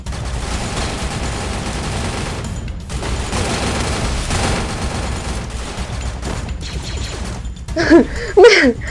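Rapid bursts of gunfire from a video game shooter rattle loudly and nearly continuously, broken by brief pauses, with a few sharper impact sounds near the end.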